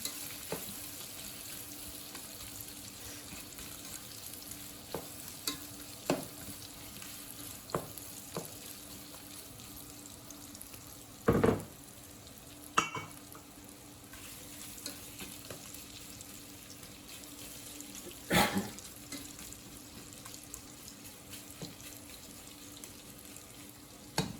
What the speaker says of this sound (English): We'll let that saute for 4 to 5 minutes and we will be back.